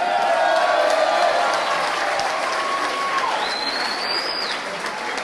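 Audience at a political party's anniversary speech in London applauding people from overseas territories, sustained dense clapping with some cheering and whistle-like tones, steady and full throughout.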